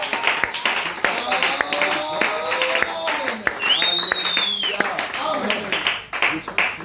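A church congregation claps and cheers in worship, with rhythmic clapping and joyful shouts and voices mixed together, fairly close and lively, fading near the end.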